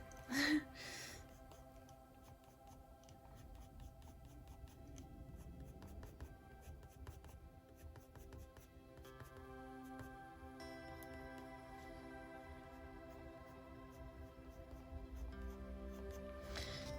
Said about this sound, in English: just trying to get a few hair strokes in there